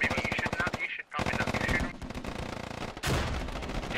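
Rapid automatic gunfire rattles in dense bursts during a match of the squad shooter game Squad, loud and close with a short pause between volleys, and a voice comments over it.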